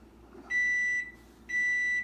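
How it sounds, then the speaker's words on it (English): Kitchen timer beeping twice while coffee steeps, two clear sustained electronic tones about a second apart, each lasting about half a second, loud over a quiet room. "Alright, the magical beep."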